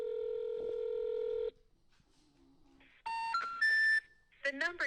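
A telephone number is dialed as a run of DTMF keypad tones. A steady dial tone comes first, then a quiet gap, then a quick sequence of bright electronic beeps, loud and close, with no voices.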